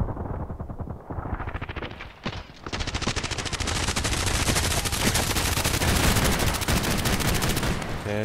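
Hip-fired gun in the online shooter Contract Wars unleashes a long, loud, rapid-fire burst of automatic shots after a couple of brief single reports, nearly continuous and close, with no talking.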